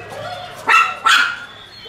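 Puppies barking, two short sharp yips close by, one following quickly after the other against a quiet background.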